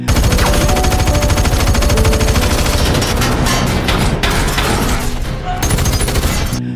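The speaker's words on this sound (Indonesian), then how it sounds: "Aksi H itu kembali terhenti karena Bullet menembakinya." Gunfire in a film scene: loud, dense bursts of rapid machine-gun shots crackle without pause, with sharper individual cracks toward the end.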